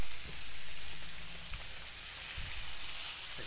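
Blackened redfish sizzles in a pan over a high fire, a steady close crackling hiss that runs throughout with small pops and no talking.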